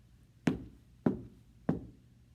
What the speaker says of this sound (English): And then we have to have a knock at the door.